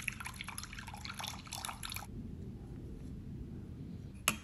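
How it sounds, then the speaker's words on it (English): Room-temperature tap water pours onto a kitchen scale while weighing pizza dough water, a bright splashing trickle for about two seconds, followed by a quiet stretch and a faint clink near the end. "I'm tearing the scale and weighing out 300 grams of room temperature water."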